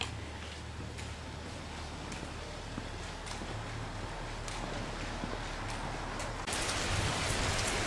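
Steady rainfall patters on surfaces on the Camino Francés, with scattered sharper drops, growing heavier near the end; no voices.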